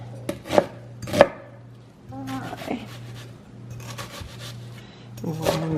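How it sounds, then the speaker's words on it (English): A knife chops a peeled onion on a board, a few sharp strikes at the start and end with softer cutting between, close and fairly loud with a steady low hum underneath. "just roughly chop this"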